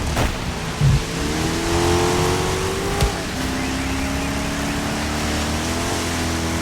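Rally car in the Dirt 5 racing game revving hard with wheel spin, a loud, steady engine drone with rising and falling pitch and a couple of brief bumps, no voices.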